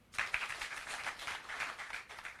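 Audience applause breaks out for the republic's second prime minister at the Nakuru Declaration gathering, a steady sustained wash of clapping from a crowd, fairly distant, with no speech over it.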